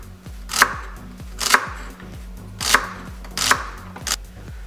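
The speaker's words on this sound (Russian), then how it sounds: "Сейчас нарезаю стебель сельдерея." A knife chops through a celery stalk on a cutting board while liver is cooked in a kazan in the Uzbek style. Five crisp, evenly spaced chops ring out, close and distinct, with no talk.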